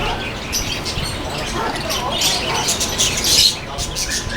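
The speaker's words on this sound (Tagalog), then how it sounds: "African lovebirds" African lovebirds call at a crowded bird market in Cartimar, giving high, sharp chirps and squawks scattered over a constant murmur of background noise.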